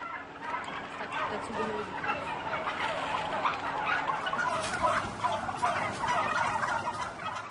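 Dense chorus of turkeys gobbling inside a farm building, many birds calling over one another in a steady, continuous din, with a person talking faintly underneath.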